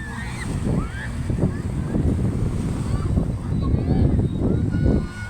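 Waves at a sandy seashore where people sit on the sand: rolling surf rumbles and washes in repeated surges, with wind buffeting the microphone and faint voices in the background.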